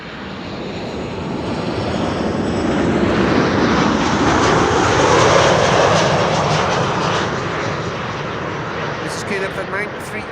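A KLM Boeing 737-700 jet arrives at Amsterdam Schiphol, its engine roar swelling to a broad loud peak mid-clip and then easing as it passes, with a voice talking over it.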